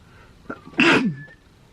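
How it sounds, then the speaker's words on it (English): A single sharp sneeze close by, preceded by a brief sharp inhale, then quiet. "I think I'm going to sneeze."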